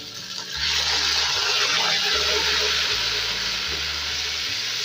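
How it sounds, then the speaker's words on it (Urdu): Water poured into a pot of browned frying onions for matar pulao sets off a loud, steady sizzle and bubbling hiss that rises abruptly and continues close up, with a low rhythmic hum beneath. "تو اس کے اندر شامل کروں گا پانی، اور احتیاط سے ابھی ڈانسنگ شو شروع ہو جائے گا"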